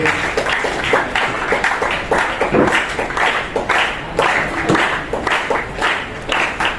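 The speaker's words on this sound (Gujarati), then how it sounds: "આપણે જોરદાર તાળીઓથી એમનું સ્વાગત કરીએ" Crowd applause welcoming a cabinet minister at an education dialogue meeting with school managers in Dwarka, a steady dense patter of many hands clapping throughout, moderately loud and without speech.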